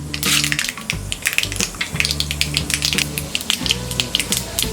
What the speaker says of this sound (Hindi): इसमें डालेंगे हम 1 टीस्पून राई। राई स्प्लैटर होने के बाद